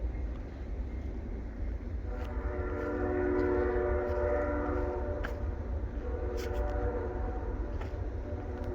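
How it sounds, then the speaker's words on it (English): A train rolls past near the Old Erie Canal, its horn sounding in a long, loud harmonic blast over a steady rumble of wheels and cars that holds for several seconds and then continues under the passing noise. "Damn trains."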